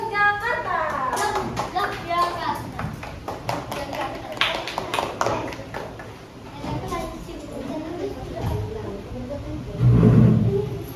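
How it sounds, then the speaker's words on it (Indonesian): A classroom of third-grade students applauds the final group from Yogyakarta during a math lesson, a burst of many hands clapping mixed with children's chatter that swells again near the end. "Beri aplaus untuk kelompok terakhir"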